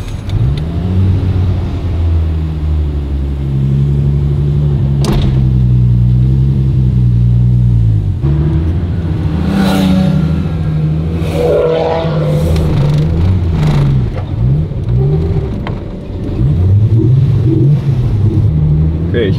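A BMW engine on a cold start, running too lean, revs in a loud, close drone with rising and falling pitch sweeps, repeatedly slow to pick up throttle before climbing.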